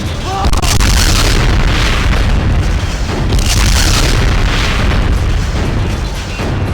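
Repeated booming missile and grenade blasts from the Killer7 video game pile up into a dense, loud, continuous barrage, with swelling bursts and heavy low rumble throughout.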